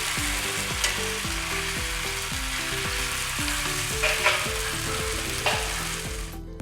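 Koduva fish fries steadily in a pan, a loud continuous sizzle running throughout with a few sharper pops and spatters, no voices.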